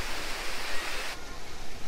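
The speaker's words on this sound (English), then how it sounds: "There's another waterfall," Water pours steadily from a waterfall feature beside a resort pool near a water slide and spa, a broad continuous rushing wash that holds constant throughout, fairly close, with no voices.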